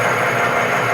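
An old Enco machinist lathe switched on and running, giving a loud, steady mechanical hum and rattle with a fast regular clatter, close by and alone with no talk.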